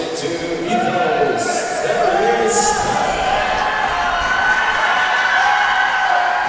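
A packed basketball arena crowd at a junior league game roars continuously with loud, dense noise, cheering swelling and a whistle-like tone rising through it, while a commentator talks over it.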